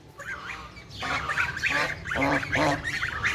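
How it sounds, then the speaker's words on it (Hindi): Pet ducks kept with their young ducklings give nasal quacking and honking calls in close, repeated bursts, loud and near, with little else around them. "मैंने जो डक्स रखी हुई हैं ना, उनने बच्चे भी दिए हुए हैं जी"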